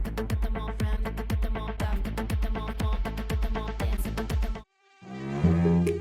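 A mosquito buzzing sound effect in a radio ad: a loud, steady insect drone pulsing in a regular rhythm for several seconds, then cutting off briefly before a different tonal sound takes over.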